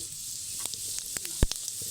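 Whole cumin seeds and bay leaves crackle in hot mustard oil in a wok, a steady hiss broken by sharp pops and one loud clack.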